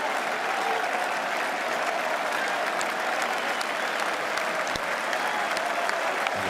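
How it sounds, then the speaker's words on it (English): Cricket crowd at Edgbaston applauding England's win on the final Ashes day, a dense steady wash of clapping from a large stadium audience throughout, with faint commentary beneath. "And applauding the crowd."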